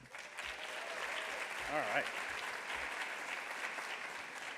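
An audience at a school district award ceremony for educational support personnel applauds steadily for several seconds, a dense patter of clapping filling the room while a voice briefly speaks over it.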